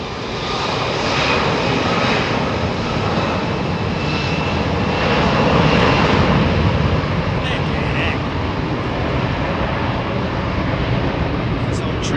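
Airliner jet engines spooling up at Heathrow Airport during stormy weather, a loud sustained roar that swells gradually, with someone talking over it.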